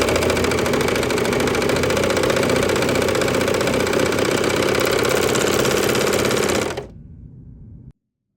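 A serger sewing machine runs steadily, trimming and overlocking a raw fabric edge in a fast, even whir that holds loud and close for several seconds, then stops abruptly, leaving a faint low hum before silence.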